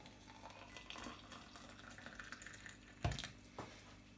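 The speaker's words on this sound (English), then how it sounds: "we're going to pour some hot water upon it" Hot water poured from a kettle onto a peppermint tea bag in a cup, a quiet trickling pour with a louder splash near the end and a small slosh after.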